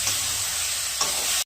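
Boiled dal poured into a hot pan of fried fish and whole spices sets off a loud, steady sizzle with a couple of stirring scrapes, then cuts off abruptly.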